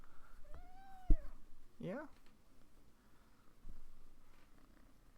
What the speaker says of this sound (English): The kitty's coming to say hello.